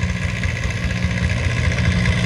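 A vintage tractor engine at a tractor pull track in Cobden, Victoria drones steadily and loudly with a deep, throbbing idle-like rumble and no talk on top.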